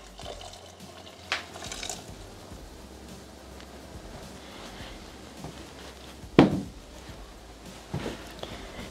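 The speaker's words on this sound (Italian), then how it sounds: "Aggiungere l'acqua, che deve essere calda." Hot water poured into a Thermomix while cooking fennel and carrot soup gives a faint, quiet trickle with a sharper splash near the end, heard alone.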